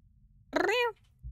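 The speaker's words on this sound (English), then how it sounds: "Oh, kitty." A single cat meow in a video game, near and clear, rising then falling over about half a second, with quiet background before and a low rumble after.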